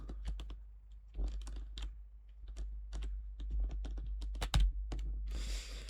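Computer keyboard keys are pressed in quick irregular bursts of sharp clicks over a steady low hum, close and fairly loud, with a rougher rustle near the end.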